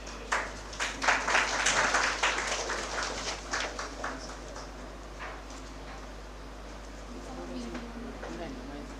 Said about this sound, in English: Let us welcome Dr. Rajesh Gowri, sir, with a huge round of applause.